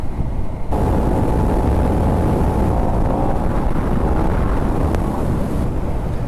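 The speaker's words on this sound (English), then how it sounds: "A bit windy though." Loud, steady wind roars and buffets the microphone while riding a KTM 1290 Super Duke R Evo motorcycle, a dense low rumble running throughout without a break.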